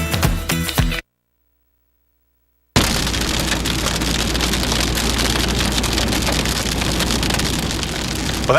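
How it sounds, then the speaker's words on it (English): Hail pounds down hard during a western Kansas thunderstorm, a dense, loud, continuous clatter of ice striking surfaces, briefly cut to silence early before resuming at full intensity. "that's the sound of hail pounding western Kansas yesterday"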